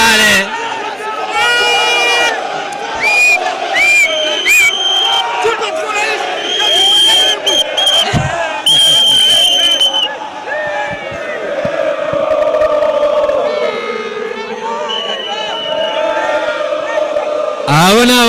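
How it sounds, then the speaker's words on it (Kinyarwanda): Rayon Sports football fans after a 4-3 penalty shootout win, a crowd shouting, chanting and cheering in loud bursts, with whistles and voices overlapping throughout. "Ayo ni amashyi y'abareba rero, barishimye cyane cyane cyane"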